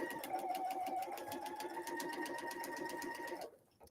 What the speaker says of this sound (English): we're going to go to the machine and we're going to stitch the next seam